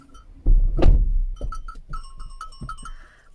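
Goats bleat from inside a parked car, keen to be let out, with a few loud calls close by followed by quieter, scattered bleats and small knocks.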